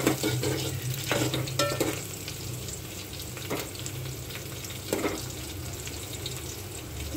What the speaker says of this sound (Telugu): దీన్ని ఒకసారి కలపాలండి కర్రీని.